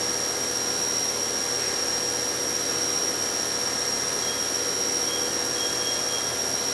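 A 2012 Southwestern Industries Trak LPM vertical machining center spindle spinning at 5,000 RPM, giving a steady high-pitched whine and hiss that holds constant throughout, with no voices.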